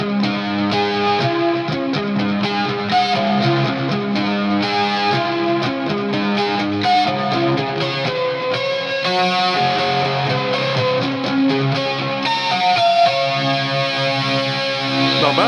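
Electric guitar played through a stock ToneX Swing on Synth amp preset, an 80s-style distorted tone with chorus, reverb and delay added, heard as a continuous melodic lead line with sustained, shimmering repeats and no voices.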